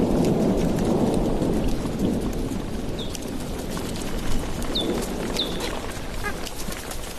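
Steady rain with low thunder rumbling across the Serengeti plains at the start of the rainy season, a continuous wash of sound with a few faint bird calls above.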